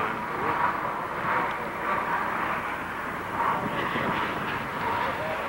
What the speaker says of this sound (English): There's 2 aircraft. One's the NOAA P3,